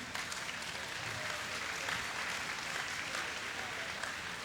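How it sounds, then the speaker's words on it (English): An audience at a 2009 songfest applauds, a dense steady wash of many hands clapping, fairly distant and even throughout, without a break. "let's have a round of applause for His Excellency"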